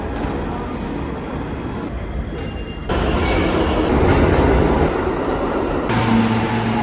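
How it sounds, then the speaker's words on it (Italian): Subway train running through a New York station, a loud, steady rumble of wheels and cars on the rails that swells partway through and stays heavy, with faint voices in the background. "Qui ci sono i tornelli per entrare nella metropolitana, come tutte le metropolitane del mondo."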